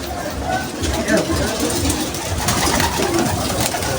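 Pigeons inside a racing pigeon loft coo and rustle in a steady, close murmur, partly under someone talking over the birds.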